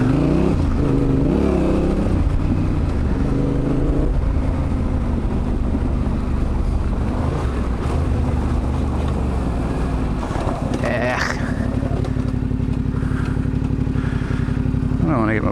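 A Yamaha T7 motorcycle on the move, its engine droning loud and continuous throughout under heavy wind buffeting, with speech faintly present beneath the roar.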